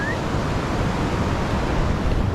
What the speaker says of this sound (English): Look at the surroundings. The waves.